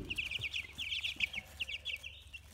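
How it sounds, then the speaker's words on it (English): Young broiler chickens, mostly Red Rangers with a Barred Rock and a California White, cheep in a rapid run of close, high, bright peeps over a faint rustling background. "It's a Barred Rock and a California White, but the rest are Red Rangers."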